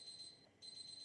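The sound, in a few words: kitchen timer going off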